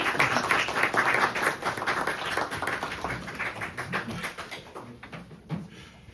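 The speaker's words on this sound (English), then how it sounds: "if we can just give Ben a round of applause for coming in and having a chat with us" Audience of college students applauding a guest lecturer in a lecture room, a dense burst of clapping that starts loud and gradually thins to scattered claps over several seconds.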